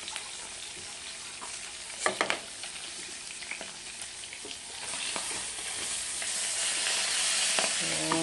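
Bangus (milkfish) fries in a pan with a crackling sizzle, a few sharp spattering pops early on, then a fuller, steadily rising hiss, close by with no speech.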